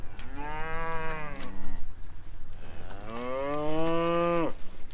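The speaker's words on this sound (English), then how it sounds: "The cows have come to watch." Two long, loud cow moos, close by, the second following a short pause after the first.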